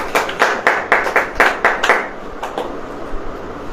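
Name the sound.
audience clapping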